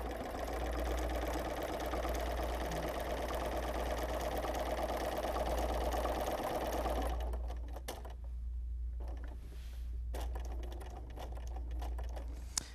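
A sewing machine runs fast and steadily during free motion quilting, a dense rapid needle rattle over a low motor hum for about seven seconds, then slows into intermittent short stitching bursts with pauses.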